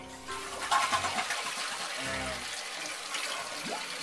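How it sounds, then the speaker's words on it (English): A toilet flushes with a rushing, gurgling surge of water that keeps swirling for a few seconds, close and fairly loud, while a person speaks briefly over it. "Then what you do is you flush the toilet."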